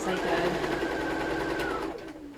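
A sewing machine runs steadily for about two seconds while stitching fabric, a close, even mechanical whir that then slows and stops.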